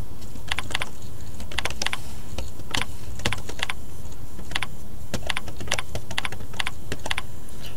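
Username being typed on a computer keyboard at a login prompt: quick bursts of light key clicks in an irregular rhythm over faint room hum, close and clear, with no talk.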